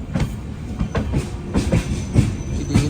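The Trivandrum Express arrives at Thiruvananthapuram Central railway station. Loud, close rolling wheels keep up a rhythmic clickety-clack with faint squeals over steady rumble, and no voices are heard.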